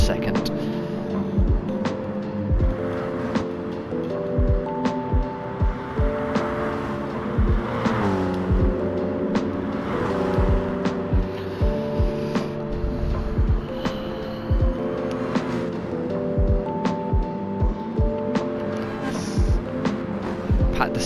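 Race cars lap a circuit in Gran Turismo Sport, engines droning and revving through the gears in a continuous layered rumble with repeated shifts, under steady race commentary.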